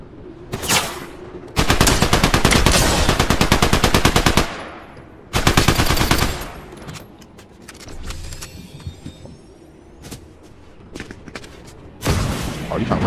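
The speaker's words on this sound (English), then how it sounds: "He's doing a whole lot of shooting." Gunfire in Fortnite Battle Royale Zero Build, rapid automatic bursts at loud close range separated by gaps with quieter scattered shots, a voice talking faintly in between.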